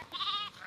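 A single short goat bleat, a nasal wavering cry about half a second long, heard fairly close over faint outdoor background on a farm where goats are grazed and chickens roam.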